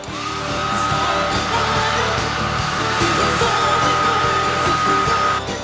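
A hair dryer runs steadily for several seconds with a continuous loud whooshing blow and a faint whine, heard close up in the Spodek arena in Katowice.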